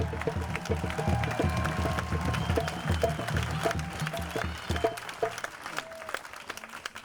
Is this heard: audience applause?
yes